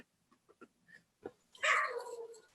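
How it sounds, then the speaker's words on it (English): A pet dog barks at home during an online budget subcommittee meeting: one loud, drawn-out bark that trails off after a few faint thumps and murmurs. "Sorry, my dog is barking."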